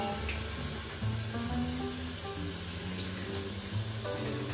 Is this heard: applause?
no